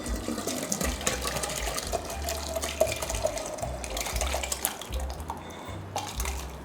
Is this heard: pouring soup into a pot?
yes